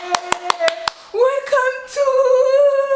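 Several sharp hand claps in a quick row, loud and close, followed by tonal sung or hummed sounds that take over after the first second.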